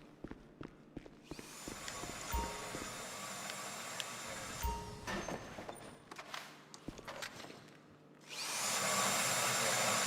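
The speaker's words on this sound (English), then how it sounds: "Oh, is he drilling?" A power drill whirs steadily during a casino heist in the Grand Theft Auto video game, under scattered clicks, thumps and footsteps, with the machine noise swelling loud and continuous near the end.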